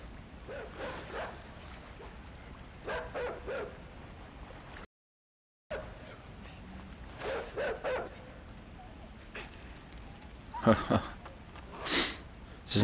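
Dogs bark in the side-scrolling video game INSIDE, sharp bursts coming in clusters toward the end over game ambience with water sounds and someone talking in between.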